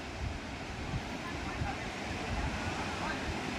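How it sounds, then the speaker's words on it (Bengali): Sea waves wash onto Trinity Park beach in Vizag, a broad continuous roar of surf mixed with wind buffeting the microphone, steady and fairly loud. "এই হলো ট্রিনিটি পার্কের বিচ, দারুণ এই বিচটা।"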